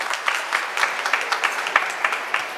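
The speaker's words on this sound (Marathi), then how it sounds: "तर कविताताईंसाठी एकदा जोरदार टाळ्या होईल." An audience at a women's gathering claps together for a performer after a short play, a fairly close round of applause with fast, slightly uneven bursts that holds steady throughout.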